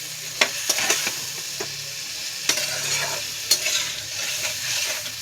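Fish with turmeric, red chilli, salt and a little sugar being stirred in a frying pan, a steady close sizzle broken by several sharp scraping clicks of the spatula, with no talk.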